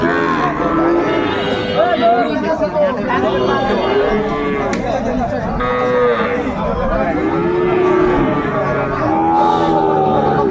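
A Sahiwal bull calf moos repeatedly at a busy cattle market, loud, close, drawn-out calls one after another, with crowd chatter and people talking throughout.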